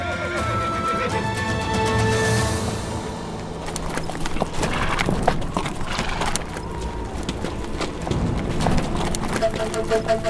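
Horse neighing and whinnying with hooves clip-clopping in a Turkish historical drama set among soldiers, with a voice talking over the horse sounds throughout.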